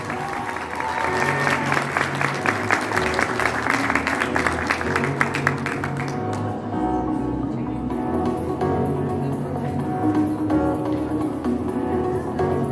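Audience at an award ceremony in a hotel ballroom applauds in rhythmic unison, strong clapping for about six seconds before thinning out over music and low room murmur.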